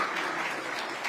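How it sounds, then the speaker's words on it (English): Brief applause from an audience at the National Press Club, a soft steady patter of many hands clapping, faint and even through the short moment. "She should get a clap too, I think."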